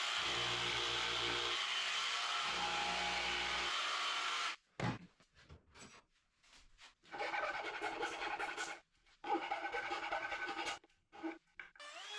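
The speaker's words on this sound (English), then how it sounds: "used my jigsaw to cut it out" A jigsaw cuts a rounded wooden handhold for a plyometric box, its harsh buzzing rasp running loud and continuous, then breaking into several shorter bursts separated by pauses, close and without talking.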